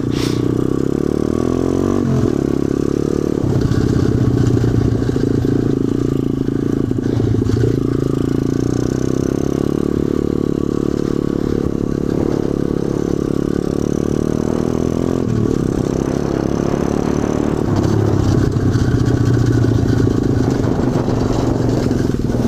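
An SSR 125 pit bike with its stock motor runs loud and close during a wheelie attempt, its mid-pitched engine droning and swelling with throttle over about twenty seconds, mixed with rattling and scraping.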